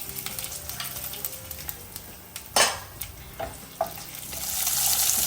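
Dried red chillies and cumin sizzle in hot oil with mustard seeds, a close, steady crackle broken by a few sharp clinks of utensils against the pan, and the hiss swells near the end.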